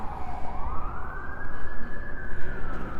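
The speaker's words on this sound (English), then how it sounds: "More sirens." Emergency vehicle sirens wail on a downtown Regina street, a steady rising-and-falling tone over constant traffic rumble, fairly close and loud throughout.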